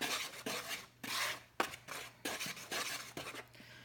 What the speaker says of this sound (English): now we're gonna give it a little turn, make sure everything mixes well